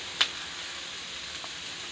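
Banana flower and coconut fry quietly in a pan, a faint steady sizzle with a single soft tick of a utensil near the start, no voices.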